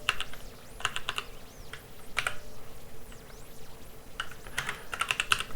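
Computer keyboard typing in short bursts of quick clicks with pauses between them, soft and close, with no talk.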